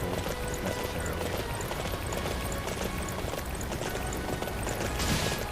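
Horse hooves gallop in Dynasty Warriors 9, a fast, steady clatter of hoofbeats running continuously over a dense, noisy game background.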